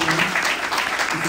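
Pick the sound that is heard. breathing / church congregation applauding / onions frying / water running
church congregation applauding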